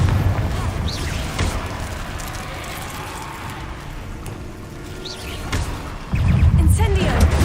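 Fiery Confringo blast spells detonate in the Hogwarts Legacy video game, with dense low booming rumble throughout and a sharp, louder explosive surge near the end, over continuous game action.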